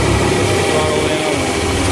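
Farm machinery engine idling steadily after being throttled down at a grain bin auger, a continuous low rumbling drone filling the whole moment at close range.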